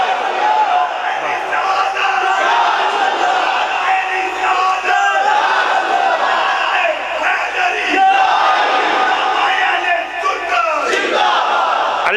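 A large crowd roars and chants a religious slogan in unison at a gathering honouring Ghazi Ilm Din Shaheed, loud and sustained with rising shouts across the whole stretch.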